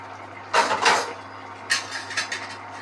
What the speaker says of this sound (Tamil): 5 மினிட்ஸ் ஆயிடுச்சு. திறக்கிற மூடியை.